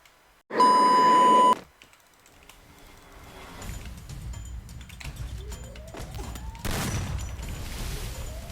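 Gunfire in the Free Fire mobile shooter: a loud, dense burst near the start, then scattered shots and clicks over a continuous game backdrop with faint chirps.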